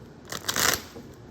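A deck of tarot cards riffled and shuffled up close, a short burst of papery flutter swelling to a dense crisp rush and then tapering off, with no talking.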